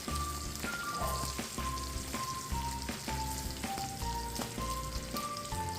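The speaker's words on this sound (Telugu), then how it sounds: "వీటినన్నిటిని వేపుకొని పేస్ట్ చేసుకుందాం" Green chilies, curry leaves, ginger and garlic fry steadily in hot oil for peanut chutney, a continuous close sizzle with small pops and scattered crackles throughout, with no voices.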